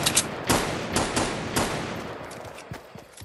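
Gunfire in Fortnite, bursts of rapid shots with a few sharp louder cracks scattered through a busy, mid-distance firefight, no voices.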